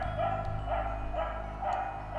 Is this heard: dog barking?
yes